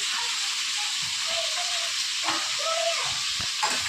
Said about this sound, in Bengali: এটা হালকা করে একটু ফ্রাই করে নিলাম